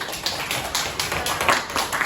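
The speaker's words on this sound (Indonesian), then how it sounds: "Jadi tepuk tangan dulu" An audience in a microteaching classroom claps in a brief, uneven burst of handclaps, fairly quiet with soft, irregular taps across about two seconds and no talking.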